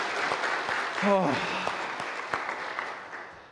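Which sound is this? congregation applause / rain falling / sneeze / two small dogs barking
congregation applause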